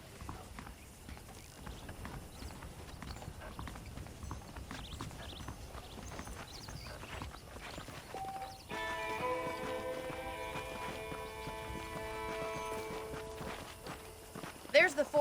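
Horse hooves clop at a steady walk in Red Dead Redemption, soft and close under a voice, with bright music entering partway through.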